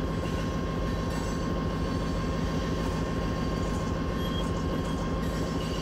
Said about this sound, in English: So in total, we got 5 locomotives on this train.